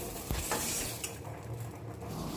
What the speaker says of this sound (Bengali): এবার 1 মিনিট মতো এমনি ঢাকা খুলেই এইভাবে নাড়াচাড়া করে ভেজে নিচ্ছি